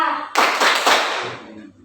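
Students standing in a classroom perform the Tepuk PPK group clap, a sudden burst of several quick, loud, close claps in rhythm that then trails off.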